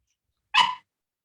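A single short, sharp dog bark, close and fairly loud, cutting through an otherwise silent background.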